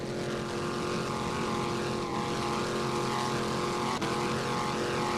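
A 29-foot Extreme offshore racing powerboat with a Vortec engine and Mercury Bravo drive, racing at the 2006 OSS World Championships in Destin, Florida, gives a loud, continuous engine roar that holds steady throughout with no voices.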